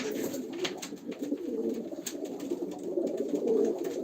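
Pigeons coo in soft, repeated rolling calls at a live pigeon auction, close and continuous under a faint high background hiss.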